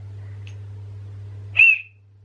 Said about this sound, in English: he's found a whistle somewhere